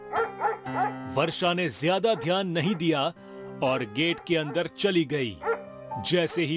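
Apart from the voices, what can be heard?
dog barking loudly outside a gate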